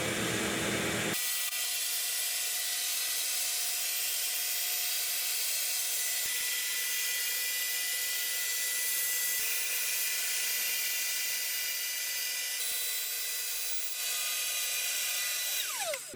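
A Makita router on a CNC machine carves wood with a steady, high-pitched whine that runs loud and unbroken after a brief start, with no voices over it.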